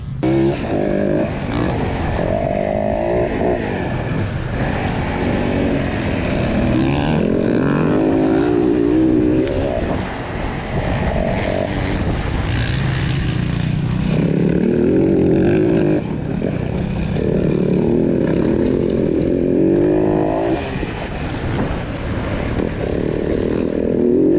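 A Yamaha WR450F dirt bike rides a motocross track, its engine loud and close throughout, rising and falling in pitch as the rider accelerates, shifts and backs off in repeated surges.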